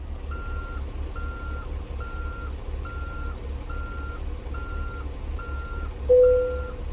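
Reversing alarm on a truck in American Truck Simulator, a steady evenly spaced series of about eight beeps over a low idling engine rumble, with a brief hiss near the end.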